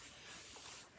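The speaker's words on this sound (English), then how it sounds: "And then I spray and pretty much just leave it there" A spray bottle mists fabric during ironing, one short steady hiss lasting about a second, close and clear with no talk.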